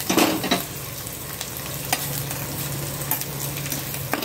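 Spice masala sizzles and fries steadily in a pan, a continuous close crackle with a louder burst of stirring at the start and occasional scraping taps.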